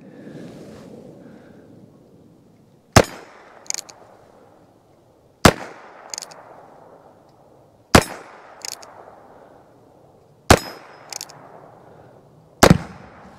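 Heritage Rough Rider Tactical Cowboy revolver fired outdoors, five sharp, loud shots spaced roughly two to three seconds apart, each with a short echo trailing off over steady wind noise.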